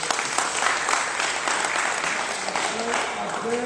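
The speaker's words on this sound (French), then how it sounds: "donc on applaudit encore." Applause from an audience at a Catholic association's national gathering in Cameroon, steady dense clapping filling the whole stretch, fairly loud and continuous, with voices mixed faintly beneath.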